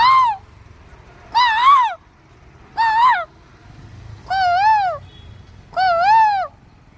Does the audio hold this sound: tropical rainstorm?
no